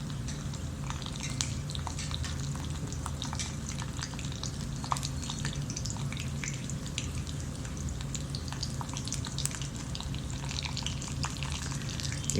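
Peanuts, urad dal and chana dal frying in a pan, giving a steady low sizzle with scattered crackles and pops throughout, fairly quiet and without talk.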